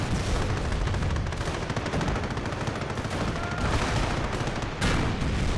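Continuous heavy gunfire and explosive booms in a Company of Heroes 1 battle involving a German Panzer IV tank, dense and loud throughout the whole stretch with sustained rapid shots and rumbling impacts.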